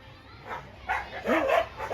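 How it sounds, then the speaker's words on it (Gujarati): Dogs bark at a house yard where monkeys sit on a wall, with short, moderately close bow-wow yelps rising toward the end under faint background noise. "કુતરા બાંગો નાખે"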